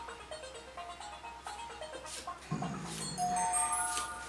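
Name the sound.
phone mail notification sound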